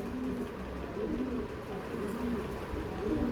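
Teddy pigeons coo softly and repeatedly at a moderate distance, low rolling calls recurring over a faint steady background.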